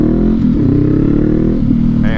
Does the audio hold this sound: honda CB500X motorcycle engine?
yes